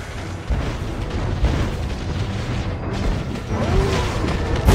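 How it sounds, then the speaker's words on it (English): Mobile Legends game explosion as a turret is destroyed, a dense rumbling blast that holds steady and swells louder toward the end. "Your team destroyed a turret!"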